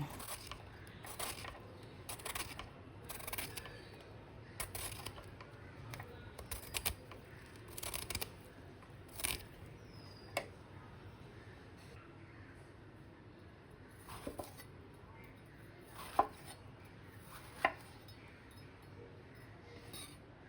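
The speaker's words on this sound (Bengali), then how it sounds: "সমস্ত পটলগুলোকে আমি খোসা ছাড়িয়ে গোল গোল করে কেটে নিচ্ছি" Peeled pointed gourd is sliced into thick rounds on a board, giving a series of faint, irregular knife taps and clicks spread across a quiet background.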